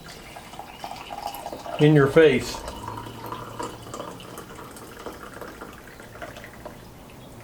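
Coffee pours briefly into a cup, a short gurgling stream under quiet room noise, with a voice speaking briefly nearby.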